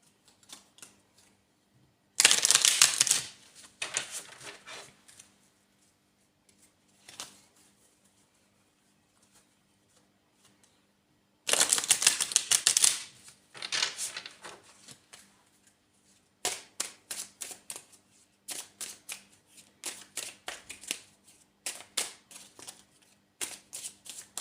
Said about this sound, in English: So I'll give these a quick shuffle.